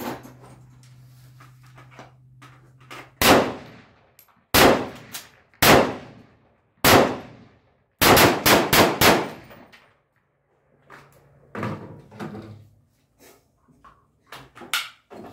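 SKS rifle firing gas-checked 150-grain cast lead bullets, several loud sharp reports in an irregular semi-auto string including a rapid burst of four or five, with quiet gaps and faint handling noise between.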